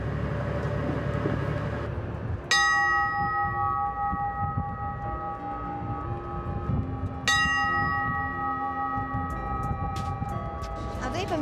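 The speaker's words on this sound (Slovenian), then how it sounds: "zvonec sigurno ni orožje, je signalno sredstvo, uporabljamo ga za signalizacijo v megli" A warship's signal bell, used for fog signalling, is struck twice several seconds apart, each loud clang ringing on with a long metallic decay over engine rumble and background chatter.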